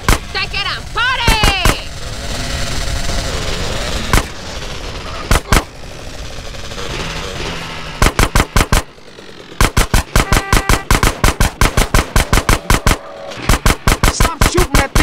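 Rapid bursts of gunfire in GTA San Andreas, automatic weapon volleys firing in fast rhythmic strings with a few isolated single shots, loud and close, over a continuous background of game engine rumble and effects.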